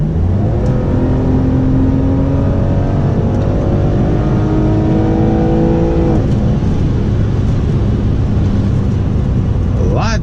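A 2004 BMW E46 330i ZHP at full throttle gives a loud, continuous engine roar, rising in pitch through the gears with a brief shift break partway and a fresh climb at the end.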